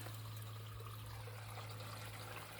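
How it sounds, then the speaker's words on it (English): A small trickling waterfall pours steadily down a creek bed at a Missouri mammoth fossil site, a continuous close splashing wash with a low steady hum beneath it. "Causing a little waterfall there."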